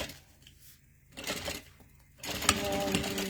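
A sewing machine stitches bag lining in short running bursts broken by brief pauses, its motor whirring with a rapid mechanical clatter close by and no one speaking.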